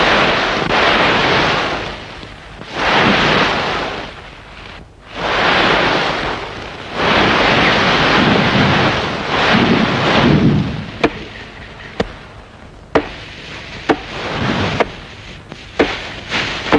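Gusts of raging storm wind roar in long, loud surges with brief lulls between them, followed by sharp cracking bangs over a quieter rumble.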